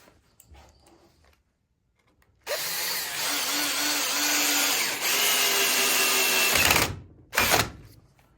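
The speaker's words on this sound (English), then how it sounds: "Use a little bit of soap on the screw. It helps it go into the hardwood a little better." A power drill drives a soap-lubricated screw into a hardwood chair, a loud steady whir lasting about four seconds that dips briefly midway, then a short final burst, with quiet handling sounds before it.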